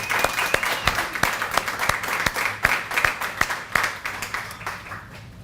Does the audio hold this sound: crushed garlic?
no